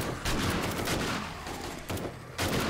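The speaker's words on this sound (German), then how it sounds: "Ich schieße jetzt durch die kleine Lücke hier durch." Rapid bursts of gunfire from the zombie survival game 7 Days to Die during a blood moon night, loud and dense, rattling almost continuously with only brief gaps.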